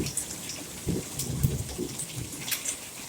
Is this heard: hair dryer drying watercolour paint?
no